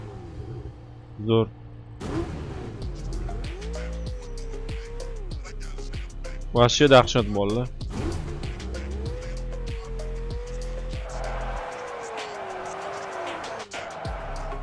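A Ferrari supercar in the mobile game PUBG Mobile drives with a revving engine tone that rises and holds, tires squeal at times, and a voice talks excitedly over it.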